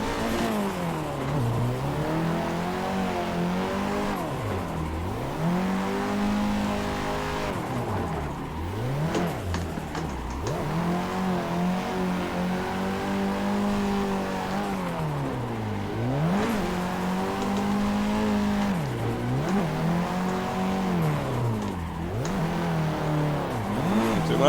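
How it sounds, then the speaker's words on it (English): A loud drift car engine in the racing sim Assetto Corsa revs hard and continuously, pitch sweeping up and down in repeated cycles as it bounces off the limiter, alone with no talk. "this car is way loud compared"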